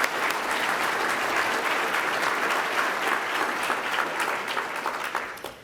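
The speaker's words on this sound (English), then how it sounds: "a big round of applause for the Commercial Real Estate Breakfast Committee" An audience at a commercial real estate charity breakfast applauds, a dense, even wash of many hands clapping that holds steady, then fades at the end.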